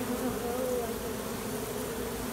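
During a swarm rescue in West Jordan, Utah, a honeybee swarm hums in a steady, close, continuous drone, the buzz of many bees holding even throughout without speech.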